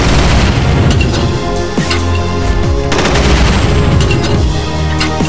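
Rapid gunfire in the video game Slendytubbies 2D Revolution, dense continuous shots and booming hits running loud throughout with no pauses.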